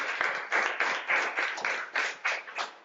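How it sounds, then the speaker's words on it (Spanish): Applause from an audience at an audiovisual entrepreneurship breakfast talk, a few seconds of somewhat uneven clapping in bursts, moderately loud, with no talking over it. "un aplauso para Dorleta"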